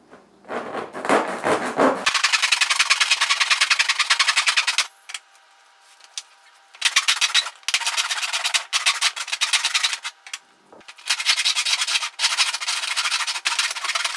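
Fiberglass is sanded during resealing of Trillium Hehr aluminum windows, heard as loud rapid rasping strokes in long bursts separated by brief pauses.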